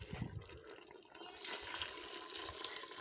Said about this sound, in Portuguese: Agora eu vou jogar um pouquinho dessa água aqui.